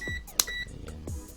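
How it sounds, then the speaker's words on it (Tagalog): A digital multimeter emits short electronic beeps while testing continuity on a Philips 32PFL4208D/56 LED TV board. The tones come in brief bursts with small clicks and handling taps, close and fairly clear. "Beep sound."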